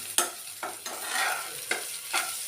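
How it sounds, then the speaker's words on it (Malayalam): Sliced onions with turmeric powder are stirred in a pan for a roasted-coconut chicken curry, giving a steady sizzle broken by five sharp, close spatula scrapes at a loose, even rhythm. "എന്നിട്ട് നന്നായി സബോളയുമായി ഇളക്കുക"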